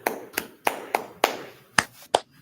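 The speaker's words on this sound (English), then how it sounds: "a big round of applause" Sparse, uneven handclaps during a sermon-style talk, about eight sharp separate claps spaced irregularly across the moment rather than a full sustained ovation.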